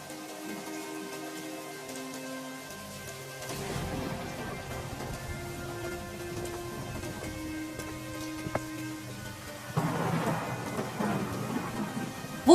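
Heavy rain pours steadily on a winter night, with low rumbling thunder rolling in partway through and swelling again near the end, a continuous wash of sound with no voices.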